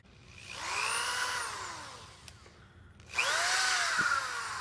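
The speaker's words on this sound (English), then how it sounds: "take the cork and drill a hole through it." A power drill whines in two bursts, the motor pitch rising and falling as it bores a hole through a cork, with a short pause between runs.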